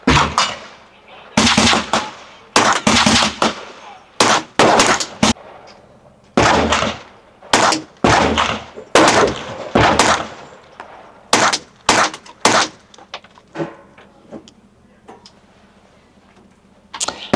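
A Taurus TX22 rifle fitted with a Banish 22 V2 suppressor fires about fourteen sharp, muffled shots in uneven clusters, each crack short and close, with quiet gaps between bursts.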